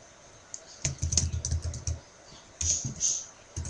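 Computer keyboard typing while an SQL query is written, heard as close, quick bursts of clicky keystrokes in two runs separated by a short pause.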